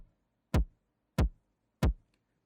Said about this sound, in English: This is how the kick sounds.